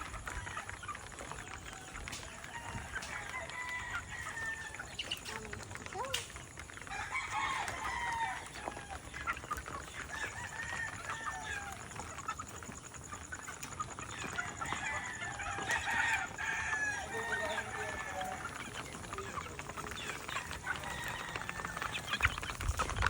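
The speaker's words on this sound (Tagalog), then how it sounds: "Pero ang daming sisiw." Chickens and chicks feeding outdoors, with roosters crowing and hens clucking throughout a steady bed of background noise, plus scattered peeping and occasional knocks.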